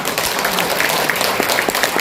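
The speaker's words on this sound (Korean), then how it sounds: "멋진 경례사를 주신 김경식 회장님께 큰 박수 부탁드립니다" A brief burst of steady applause from an audience at an awards ceremony and forum, following a congratulatory speech, crisp and continuous with no voices over it.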